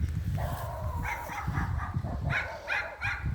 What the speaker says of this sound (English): The neighbor's dog is shouting at me.